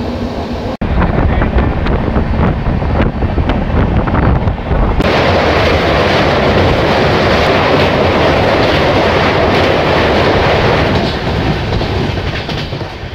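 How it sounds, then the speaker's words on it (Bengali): A freight train rolls in on an upper line at a station in the morning, a loud continuous rumble with rhythmic clickety-clack of wheels over rail joints, swelling sharply partway through and holding steady close by. "আর ওই যে সামনে উপরের লাইনটাতেও একটা মালগাড়ি ঢুকছে"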